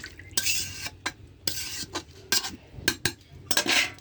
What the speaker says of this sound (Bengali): আগে আলু কষি নেব, কষানো পরিমাণে জল দিলাম